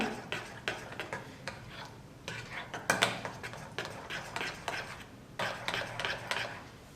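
A spoon stirs ghee through banana pancake batter in a pan, giving quiet, irregular clinks and taps against the metal, close but soft, with no voices.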